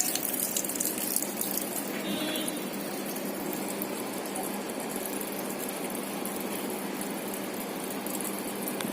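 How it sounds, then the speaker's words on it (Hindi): Water draining out of a running washing machine, a steady hissing gush with a faint mechanical hum, continuous and moderately close, no voices. "यहाँ पे ये पानी निकल रहा है।"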